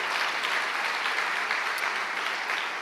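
A church congregation claps in praise during a worship service, a thick, continuous roar of applause holding steady at moderate volume throughout, with no speech over it.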